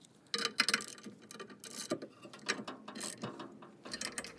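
A ratchet wrench tightens tow bar bolts on a Volvo XC60, giving a run of quick metallic clicking bursts in close, steady repeated strokes with brief pauses between them.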